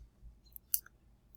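A single short mouse click on a computer, faint and alone against a quiet room background.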